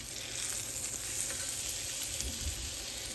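A plant-based steak sizzles in a hot pan just after being flipped, a soft, continuous crackling hiss with faint spatters, fairly quiet and steady throughout.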